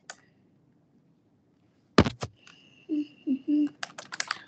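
Short bursts of clicky typing on an iPad keyboard, brief taps clustered after a quiet gap, with a voice briefly heard between the keystrokes.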